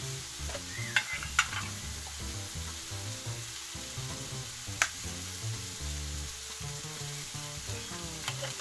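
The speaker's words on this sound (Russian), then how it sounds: "все хорошенечко перемешиваем" Funchoza noodles sizzle steadily in a kazan over a campfire while a utensil stirs them, with a few sharp metallic clanks and scrapes against the pot.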